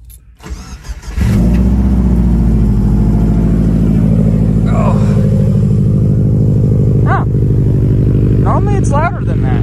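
A car engine cold-starts with a short crank, then catches and settles into a loud, steady, rumbling idle, with voices chatting briefly over it near the end.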